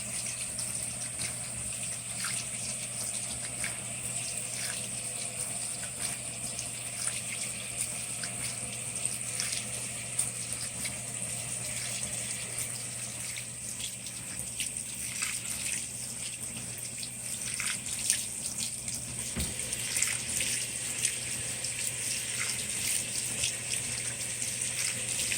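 A Whirlpool Cabrio WTW7000 top-load washer fills with water while washing a thick queen-size comforter. A steady, moderate gush of water runs over a low mechanical hum, with occasional faint clicks and splashes.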